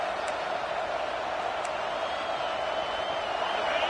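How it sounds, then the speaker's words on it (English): A packed college football stadium crowd roars in a continuous, dense wall of noise, loud and sustained without a break for the whole stretch. "listen to this crowd noise. This stadium is vibrating."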